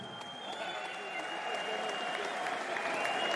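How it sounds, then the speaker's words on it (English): A crowd at a PFL Europe MMA fight in Lyon keeps up sustained applause and cheering, a dense, even roar heard at a distance through the arena. "It sounds to me like you've won over the Leon crowd."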